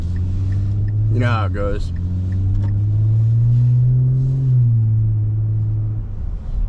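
Nissan third-generation Frontier pickup with a custom-built exhaust cruising at low town speed, giving a steady deep rumble that rises slightly midway, with someone talking over it briefly.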